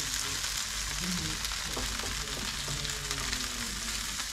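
Shrimp sautéing in a pan with garlic and sweet and sour sauce gives a continuous close sizzle and crackle, with faint stirring movements over it and no voices.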